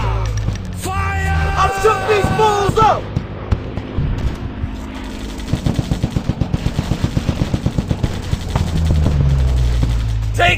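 Gunfire in an anime-style shooting video game: rapid automatic bursts crackle loudly in a dense rhythmic run through the middle, after game voice and music sounds at the start.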